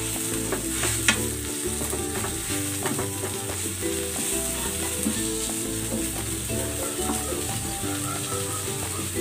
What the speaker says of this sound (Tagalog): Lagay na natin tong miso paste.